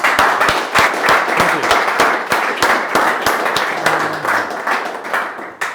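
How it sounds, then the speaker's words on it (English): Audience applause at a tech talk, a loose run of separate, close, sharp claps that thins out toward the end. "Round of applause, why not?"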